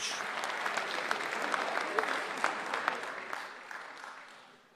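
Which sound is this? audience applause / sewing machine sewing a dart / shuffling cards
audience applause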